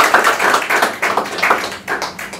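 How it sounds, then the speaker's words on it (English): Applause from an audience at a bookstore literacy town hall, a short burst of dense, close clapping at full volume with no voices over it. "Please give John a round of applause."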